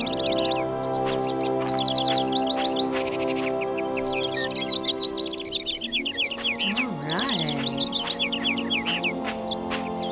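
Birds chirp and tweet repeatedly in the video game Syberia, bright overlapping calls over a steady musical drone with a short spoken word midway.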